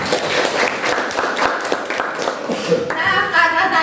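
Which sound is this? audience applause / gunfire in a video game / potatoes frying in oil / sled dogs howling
audience applause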